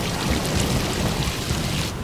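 Heavy rain pours in a dense, loud, unbroken roar of drops hitting surfaces close by, with no speech over it.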